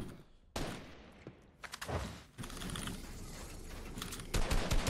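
Fortnite gunfire in a 2v2 Zone Wars match rattles out in several bursts of close shots, sharp cracks broken by short pauses, with keyboard clicks mixed in.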